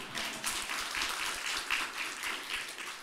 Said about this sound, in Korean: 여러분 박수 한번 쳐줬어